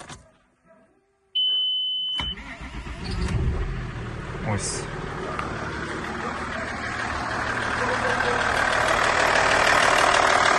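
An Audi 2.5 TDI diesel engine, freshly rebuilt, cranks briefly and fires up, then settles into a loud, steady diesel idle that grows slightly stronger, after a short warning beep beforehand.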